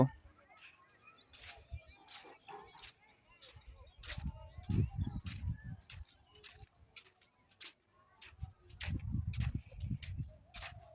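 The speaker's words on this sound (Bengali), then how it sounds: "দেখুন একটি পাখি" A bird calls outdoors in a quiet village after morning rain, repeating short, sharp chirps in a steady series near the listener, with occasional low muffled rumbles underneath.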